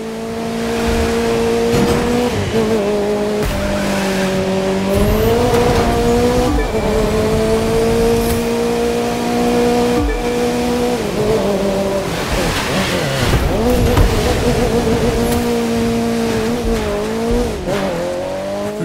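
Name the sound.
race car engine and tires from video game The Crew 2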